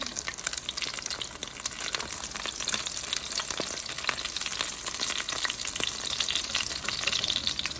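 Pancake batter frying on a hot griddle, a dense steady sizzle that holds close and loud for the whole stretch with no talking over it.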